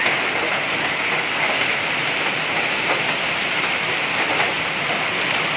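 Steady rain pouring on a mountain trail on Mount Slamet, a dense, even hiss that stays loud and unbroken throughout, with no talking.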